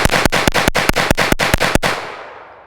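A Retay RXP22 shotgun fires unsuppressed in a rapid string of about ten loud, sharp reports, evenly spaced, before the echo fades out.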